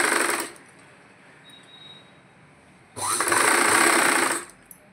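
Sewing machine stitching a patiala pant in two loud, close bursts of rapid stitching, the first about half a second and the second about a second and a half, separated by a quiet gap.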